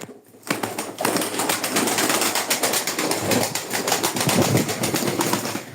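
A loft full of pigeons, constant close cooing and wing shuffling filling the space, busy and dense throughout.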